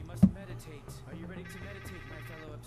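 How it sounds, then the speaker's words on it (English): A phone rings in the video game Trover Saves the Universe with a faint repeating electronic tone under a thump and game chatter, while people talk over it. "The boss calling. You should answer the phone."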